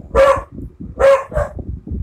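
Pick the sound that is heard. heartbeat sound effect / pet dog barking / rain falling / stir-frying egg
pet dog barking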